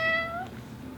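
A cat meows once in a room of a home, a clear, close, drawn-out cry with a falling pitch that fades into quiet room noise.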